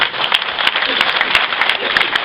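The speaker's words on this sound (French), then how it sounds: "Je crois qu'on peut l'applaudir" Applause from an audience at a French volunteer medal ceremony, a dense steady wash of clapping for a couple of seconds with a few sharper claps poking through.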